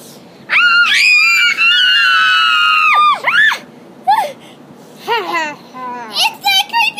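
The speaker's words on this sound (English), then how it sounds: "Till they all screamed out loud." Several children let out a loud, sustained, high-pitched scream at close range, followed by shorter cries and excited childish voices.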